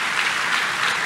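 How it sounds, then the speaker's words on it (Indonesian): A church congregation at a youth revival service bursts into loud, sustained applause, a thick hiss of many hands clapping at once, close and steady with no speech over it. "Boleh berikan tepuk tangan yang paling meriah buat Tuhan."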